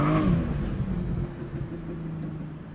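A rebuilt, previously wrecked 2023 BMW M240i with 380 horsepower accelerates and shifts gears. The engine note is loud and close, with a brief falling pitch early that suggests an upshift, then a steady rumbling drone.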